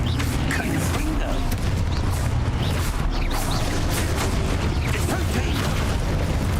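Confringo blasting spell bursting in Hogwarts Legacy, a loud rolling crackle of impacts and booms layered over a dense, busy battle din, with a voice calling out spells.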